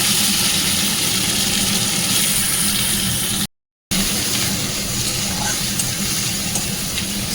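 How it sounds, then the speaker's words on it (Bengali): Tomato and onion frying with black cumin tempering in a pan, a steady dense sizzle with stirring scrapes, close and loud throughout, broken by one brief gap of silence midway. "এবার এর মধ্যে দিলাম কালো জিরে ফোড়ন আর দিলাম টমেটো আর পেঁয়াজ"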